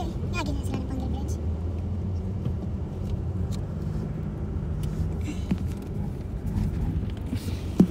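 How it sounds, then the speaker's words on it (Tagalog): Heavy traffic crawls across Panguil Bay Bridge, a steady low rumble of car engines with occasional passing vehicles and a sharp knock near the end, with people talking over it. "Grabe ka traffic."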